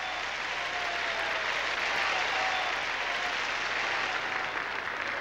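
Arena audience at a 1980 USSR Cup women's gymnastics competition in the Sports Palace applauds steadily, a dense sustained wash of clapping filling the hall with no voices over it.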